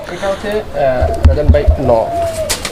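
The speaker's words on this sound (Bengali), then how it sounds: "আমাদের দেশীয় কবুতরগুলো দেখতে কিন্তু অনেক সুন্দর" Domestic Bangladeshi pigeons in a cage coo in low, throbbing bursts, close by, while a voice talks over them.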